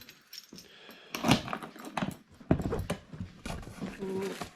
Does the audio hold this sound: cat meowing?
no